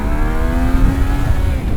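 A Yamaha Niken three-wheeled motorcycle revs up close for a brief wheelie pop, its engine note holding a steady, rising whine before dropping off after about a second.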